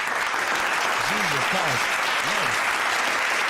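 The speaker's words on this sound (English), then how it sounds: "Round of applause for our sponsors." Applause in a podcast lounge livestream, a continuous loud clapping wash from a small group, with a voice speaking briefly over it.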